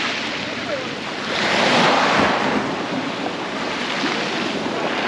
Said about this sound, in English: Don't just love the sound of waves. You get the added bonus of stones as well on this one